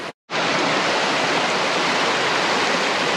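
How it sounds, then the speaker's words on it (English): Loud, unbroken roar of swift, deep river rapids at close range during a wilderness water crossing in the Cranberry Wilderness, after a brief cutout at the very start. "deepest and the swiftest water crossing I've ever done"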